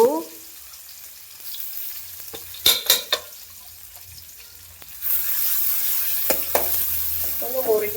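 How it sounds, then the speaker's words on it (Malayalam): Crushed garlic and shallots hit hot oil in a home kitchen pan, with a couple of sharp stirring clatters first, then a steady, close, loud sizzle that carries on to the end. "വെളുത്തുള്ളി ചുമന്നുള്ളി ചതച്ചത് ഇട്ടു"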